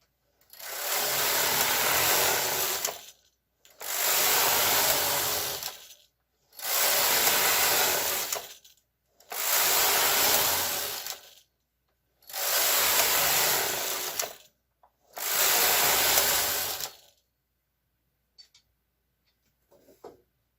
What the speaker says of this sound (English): I'm going to continue knitting